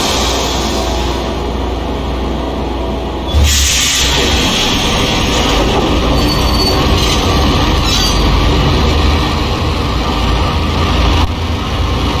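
A train rolls along its rails in the video game Max Payne, with a loud continuous rumble, metallic wheel squeal and faint clatter that surge partway through and carry on steadily.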